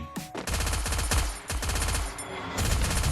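Sustained automatic gunfire in the mobile battle-royale game Free Fire, rapid bursts rattling almost continuously with brief gaps, loud and close.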